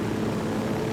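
Helicopter in the video game Ghost Recon Wildlands, a steady whirring rotor and engine drone, fairly loud and continuous for a brief moment with no talk.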